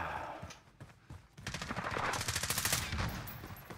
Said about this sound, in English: I'm shooting Dobbin.